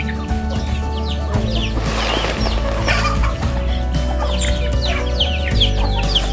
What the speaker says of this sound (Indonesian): sangat menyenangkan melihat ayam begitu sehat, makan, berebut